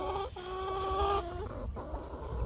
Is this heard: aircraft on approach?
no